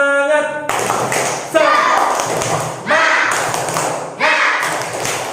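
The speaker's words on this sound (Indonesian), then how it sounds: "Tepuk semangat." A classroom of students performs the rhythmic 'tepuk semangat' spirit clap, with loud bursts of clapping and thumping over chanted voices, following a teacher's spoken cue.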